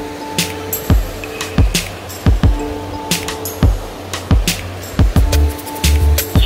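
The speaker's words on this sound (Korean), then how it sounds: "물소리 한번 들어보세요." Mountain valley stream at Gucheondong Valley in Muju, below Deogyusan, with water flowing and rushing steadily alone, broken by brief sharper splashes and knocks near the recording point.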